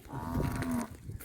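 A Khillar bull lets out a single long, loud moo, deep and drawn out, close by, with no talking.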